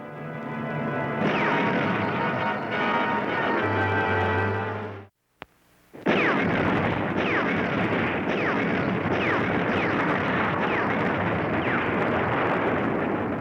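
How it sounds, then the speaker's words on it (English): Russian artillery barrage at the Battle of Stalingrad: dense, continuous roar of heavy gunfire and blasts, loud and sustained, breaking off briefly into near silence with a sharp crack, then resuming as a thick, rumbling wall of explosions. "Russian artillery opens a gigantic enveloping maneuver."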